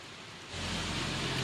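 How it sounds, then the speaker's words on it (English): Heavy rain falling outdoors by a river, a dense hiss that swells suddenly and then holds as a loud, even downpour with no voices. "It's starting to rain a lot harder now, so we gotta get out of here."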